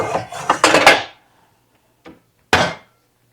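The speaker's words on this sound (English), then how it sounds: "Let me grab out a strainer." A metal strainer being pulled out at a home kitchen sink, a quick cluster of clattering, clinking metal knocks followed by two isolated clanks after a brief silence.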